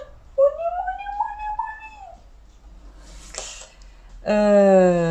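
A cat gives a long, rising meow, falls quiet briefly, then lets out another loud, drawn-out meow close to the microphone.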